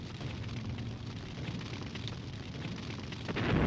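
A Katyusha rocket volley explodes in the Sudden Strike war strategy game, making a dense, continuous rumbling roar of overlapping blasts at a steady level. The roar swells into a louder burst at the very end.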